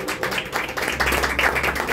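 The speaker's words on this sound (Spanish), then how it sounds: "Y el aplauso bien fuerte para la compañera que se escucha" Audience clapping for a young woman singing with a youth mariachi band at a quinceañera, a steady patter of many hands that swells partway through, with a faint low hum beneath.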